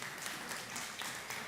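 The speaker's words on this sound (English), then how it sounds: "Round of applause, everyone" An audience at a food summit applauds in a steady, continuous wash of clapping that holds evenly for over a second, fairly soft and diffuse with no voices over it.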